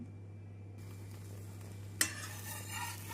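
Potato-stuffed chapati (aloo paratha) frying in oil on a dosa tawa: a low steady hum, then a sudden close sizzle bursts in and keeps hissing to the end, with no voices.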